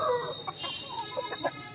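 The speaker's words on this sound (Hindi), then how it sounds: "मुर्गा" A pet chicken in a home garden clucks close by, a quick irregular run of short, throaty clucks over faint background noise.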